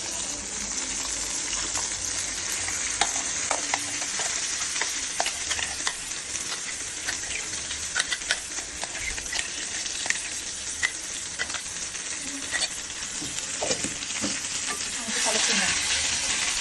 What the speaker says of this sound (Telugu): టమాటా పేస్ట్ దాంట్లో వేసుకుందాం